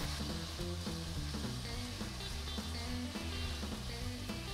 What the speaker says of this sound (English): So if it sizzles, it's good.